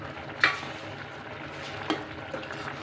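Bendakaya pulusu, an okra curry with fresh coriander just added, being stirred in a pot. A quiet, low simmering bubble runs under a couple of sharp utensil clinks against the pot, with no voices.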